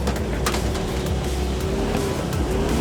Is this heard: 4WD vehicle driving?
yes